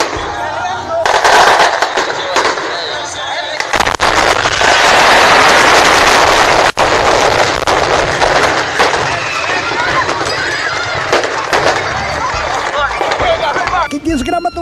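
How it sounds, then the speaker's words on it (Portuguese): Fireworks and firecrackers go off in a town during year-end celebrations, a dense, continuous barrage of loud crackling bangs heard up close with voices under the noise. "Teve muita gente que se divertiu soltando fogos."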